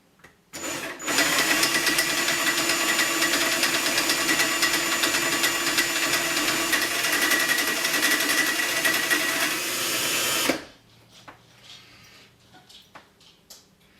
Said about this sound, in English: Wind it across the spool back and forth.